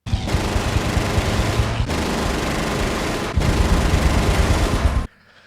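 Spitfire machine guns from the film Dunkirk fire continuously for about five seconds as loud, dense bursts split by two brief dips, then cut off abruptly.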